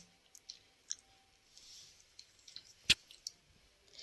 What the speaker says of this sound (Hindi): ये सारे मसाले आपने लेके थोड़ा सा पानी शामिल करना है और इनको अच्छे से कर लेना है आपने मिक्स।